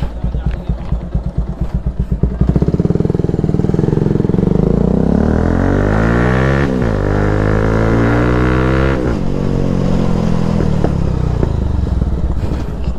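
A Yamaha R15M fitted with an Akrapovic exhaust idles with a rapid, close, loud putter, then revs repeatedly as the engine pitch sweeps up and falls back in surges, with no talking.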